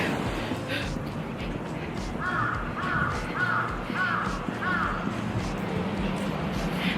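A run of harsh crow caws in quick groups of several, fairly close, over steady cold outdoor wind noise in Tokyo.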